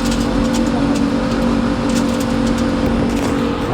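A car drives past on a town street in Anamur, Turkey, as a loud, steady rush of engine and road noise that fills the whole moment.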